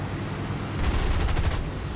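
Aircraft guns open up in a short, dense burst of rapid gunfire within the War Thunder air combat game, rising over a steady engine drone and cutting back to the drone.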